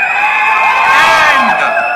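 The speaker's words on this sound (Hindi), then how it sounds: "जोरदार तालियां लाइस जेंटलमैन." A crowd at a film poster launch for Kanguva cheers and whoops loudly, with high-pitched shouts and yells sweeping over one another in a near, excited burst.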